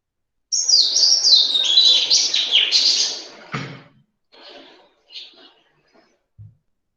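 An Oriental magpie robin sings a loud, close run of rich warbling and whistled phrases for about three seconds, followed by a few shorter, fainter notes with gaps between them.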